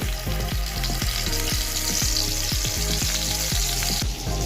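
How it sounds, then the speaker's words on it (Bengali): Pieces of katla fish fry in hot refined oil, a loud, close, unbroken sizzle with rapid crackling pops throughout. No voices. "এবার মাছগুলো ভেজে নেব।"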